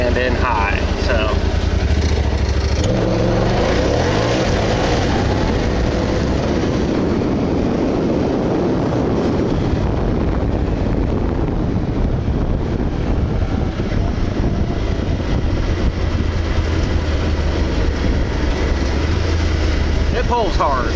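A Honda Talon turbo side-by-side accelerates hard in automatic high range, its engine roar rising and sustained amid heavy wind buffeting, loud and close throughout.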